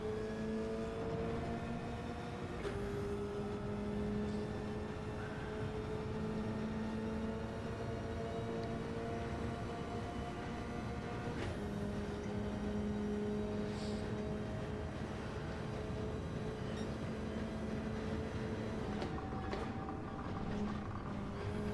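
Race car engine in the Gran Turismo racing game, heard on overrun during a league out lap: a steady, loud mechanical drone with rising harmonic sweeps as revs climb, dropping back at shifts around a few points, continuous throughout.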